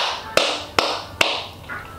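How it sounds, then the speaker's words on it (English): Three sharp hand claps ring out at even intervals, close to a Movo DSLR shotgun microphone being tested indoors, each followed by a brief room echo. "I'm gonna do a clap test"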